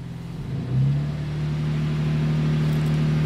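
BMW M3 Competition engine, rebuilt after crash damage, running during a service function and revving once up to a steady, sustained higher idle drone, close and loud.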